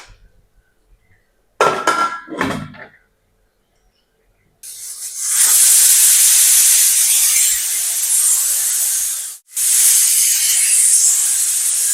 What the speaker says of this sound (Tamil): இப்போ இதை நான் மூடி வச்சிடறேன். விசில் விட்டு நிறுத்திடலாம்.